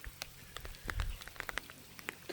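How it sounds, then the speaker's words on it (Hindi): Light drizzle falling on a lagoon, scattered soft droplet taps and patters near and far over a low background rumble, quiet and without talk. "बहुत ही खूबसूरत सी ड्रिज़ल हो रही है इस वक्त।"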